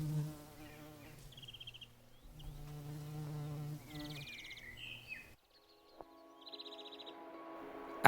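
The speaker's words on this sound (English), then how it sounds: "Wild bees like these are the essential pollinators of our planet." Wild bees buzzing close by in the Sierra de Andújar, Spain, several short droning passes that come and go against quiet, open countryside.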